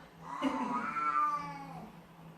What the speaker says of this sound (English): That's Jesse Cat. He likes to talk once in a while.